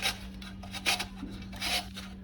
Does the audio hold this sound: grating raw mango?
yes